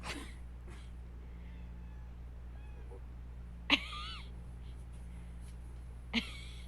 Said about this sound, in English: it really just sounds like my actual cat is making noise